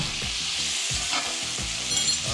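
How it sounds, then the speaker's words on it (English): A New York strip steak sizzles loudly in a pan while spoonfuls of brown butter flavored with rosemary and garlic are basted over it, with steady frying hiss broken by repeated spoon strokes and splashes, no talking. "I'm gonna baste it with this nice brown butter."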